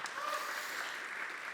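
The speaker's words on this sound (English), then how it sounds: "Let's welcome her with a round warm of applause." Conference audience applauding to welcome a speaker onto the stage, a short dense burst of clapping from a room full of people, fairly even and slightly distant.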